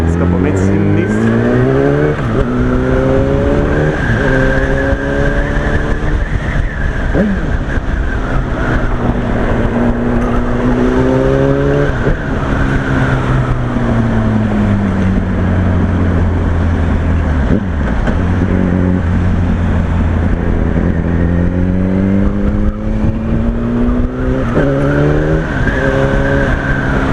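A Yamaha R1 motorcycle fitted with an aftermarket Akrapovic exhaust, ridden on the road: the engine note climbs and falls through repeated gear changes, loud and close, over steady wind roar.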